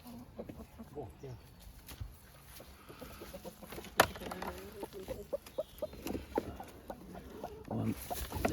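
A broody Brahma hen sitting on eggs clucks softly in a coop, low intermittent murmurs with small rustles and one sharp peak, heard close but faint beneath background farm noise.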